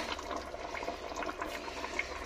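Water boils in a wok (kadhai), giving a faint, steady bubbling hiss with small pops throughout and no talking.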